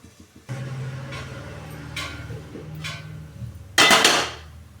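A metal lid set onto a cooking pot, a soft clatter followed by a louder bright clank near the end, with low kitchen rumble underneath.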